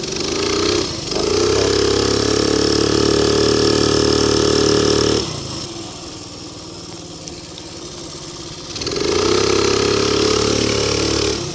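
A motorcycle engine runs steadily and loud while riding, dropping to a quieter hum mid-ride before building again, with strong wind noise throughout.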